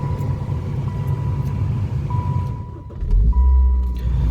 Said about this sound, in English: I'm going to start the car up. This is the twin or the dual overhead cam engine.